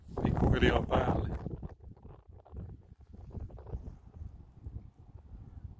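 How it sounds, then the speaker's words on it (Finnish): Strong, gusty wind at sea during ice fishing for perch buffets the microphone, with a loud, roaring gust at first that eases into a lower, uneven rumbling. "Tuulee jo siihen malliin, alkaa se myrsky vissiin painaa."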